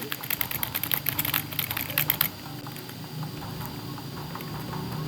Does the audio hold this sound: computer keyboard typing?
yes